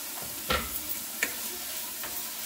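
Minced garlic sizzles in a hot pot, a steady soft frying hiss broken by a few sharp clicks and scrapes from a utensil, close and fairly quiet with no talking.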